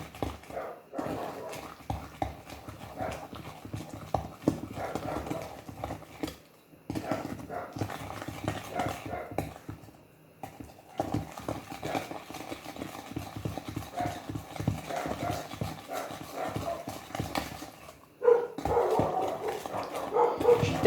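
Egg yolks being whisked by hand into sponge cake batter for a fruit sponge cake, giving a steady run of quick, light tapping and scraping strokes against the bowl, close and moderately loud, with no talk.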